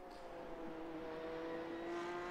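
Porsche Cup race car in a racing game at Mount Panorama, its engine a steady, rising whine holding high revs as it runs toward the finish line, heard alone and fairly faint.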